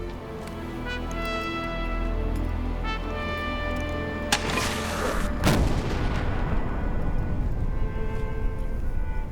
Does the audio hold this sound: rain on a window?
no